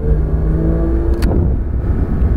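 A Porsche 992 GT on a track accelerates with a loud, steady low engine drone close by, a brief sharp click cutting through midway, and no voices.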